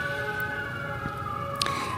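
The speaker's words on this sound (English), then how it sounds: "as soon as the siren goes by." An emergency siren wails steadily at moderate distance with a sustained, slowly shifting tone, as it passes outside during a public meeting, with faint background clatter.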